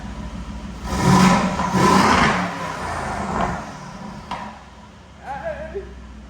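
An Aston Martin Vantage engine revs twice in quick succession with its exhaust valves closed, then settles back to a lower idle with a smaller blip of throttle, muffled and moderately loud.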